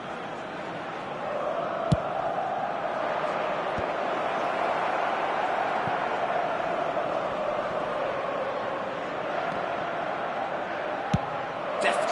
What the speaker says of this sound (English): it's applause all round us here.